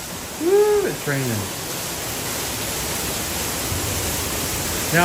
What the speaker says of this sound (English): Woo, it's raining.